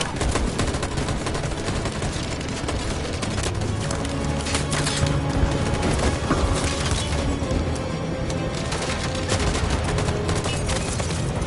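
A dense volley of gunfire from a PS4 video game crackles nonstop: rapid, overlapping loud shots blending into a sustained barrage with no pauses.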